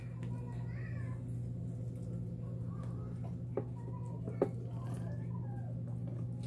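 A cat meowing near people eating boiled corn, a few short mewing calls over a steady low hum, with a couple of sharp clicks and people talking in the background.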